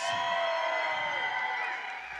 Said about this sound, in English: And alive comes the crowd.